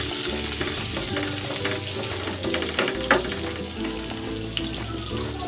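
Butter sizzling steadily in a frying pan where garlic has just been fried for a chicken dish, a constant close crackle with occasional utensil clinks and no talk.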